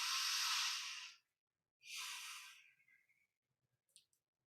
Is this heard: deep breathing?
yes